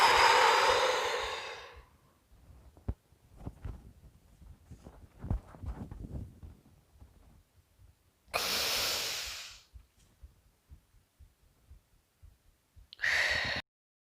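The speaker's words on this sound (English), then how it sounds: "It's a deep breath in, a deep exhalation out, and then you do this when your body is void of breath." Deep breathing for the Uddiyana Bandha yoga technique: a long forceful exhale at the start, a quiet breath-held stretch with faint rustling, then two strong airy breaths later, close and alone.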